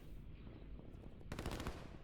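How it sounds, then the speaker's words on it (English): Rapid bursts of automatic gunfire in the video game Line War crackle in a quick rattling volley, sharp and close, over a low steady background hum. "I can hear the gunfire now."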